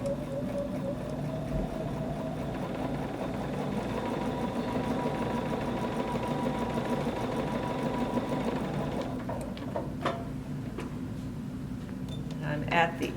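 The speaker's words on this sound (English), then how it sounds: "now I'm going to stitch right down that." A sewing machine stitches a June Taylor quilt-as-you-go table runner with a fast, steady mechanical whir that runs for about nine seconds, then stops, followed by light handling clicks.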